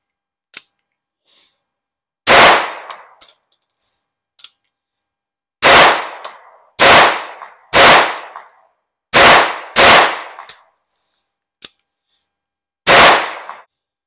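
Sharp gunshots from a Beretta 950BS Minx pistol firing .22 short rounds at a range, about eight loud close reports spaced irregularly across the stretch, with a few fainter clicks and mechanical snaps between them.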